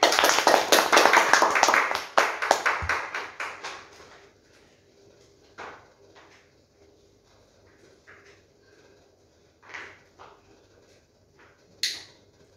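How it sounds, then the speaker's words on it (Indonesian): An Indonesian school audience applauds a poetry contestant, with loud clapping that thins out and stops within a few seconds, followed by a quiet room with a few scattered knocks and small noises. "Yuk teman-teman beri tepuk tangannya."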